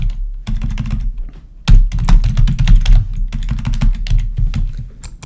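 Computer keyboard typing as a folder name is entered: rapid, close bursts of key clicks in an uneven rhythm, loud and alone for several seconds.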